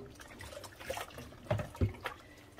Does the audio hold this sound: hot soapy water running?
yes